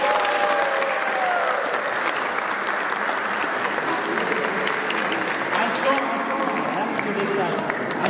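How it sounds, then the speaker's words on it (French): Applause from a congregation at a baptism ceremony, a steady wash of many hands clapping throughout, with voices murmuring underneath. "Nous pouvons applaudir la fête."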